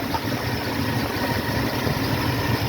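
A 1976 Ford F150 engine at normal operating temperature idles steadily, a continuous low rumble with even vibration, close and unbroken throughout.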